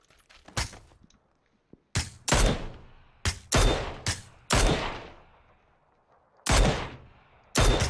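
Sharp, loud gunshots in a video game, fired in irregular single cracks and short clusters with quiet gaps between, each shot ringing out briefly before fading.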